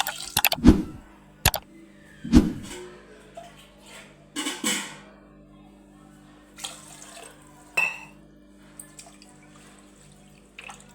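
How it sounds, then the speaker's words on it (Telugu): Water is poured into a pressure cooker holding rice and moong dal, heard as faint, scattered splashes, drips and metallic clanks with quiet gaps between them. "ఇప్పుడు ఇందులో తగినన్ని వాటర్ వేసుకుని"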